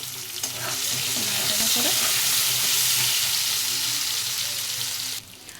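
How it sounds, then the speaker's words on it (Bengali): Boiled potatoes frying in hot oil in a pan, cooked for an egg curry, give a steady, close sizzle with stirring scrapes throughout, stopping abruptly near the end; no one speaks. "ওই তেলে আমি সেদ্ধ করা আলুগুলো ঢেলে দিয়েছি দিয়ে ভালো করে ভেজে নেব"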